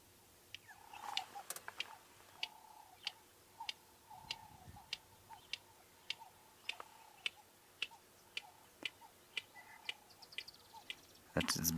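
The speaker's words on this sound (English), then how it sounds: "That's its beak clicking that goes before the call." Red-crested korhaan clicking its beak in the African wild at sunset, a long even series of sharp dry clicks spaced about every half second, faint and moderately distant over quiet ambience.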